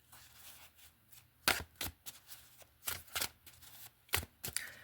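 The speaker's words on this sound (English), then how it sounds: "I do shuffle before we get started" Tarot cards shuffled by hand before a reading, giving several sharp riffling bursts at uneven intervals, close and fairly crisp, with no talking.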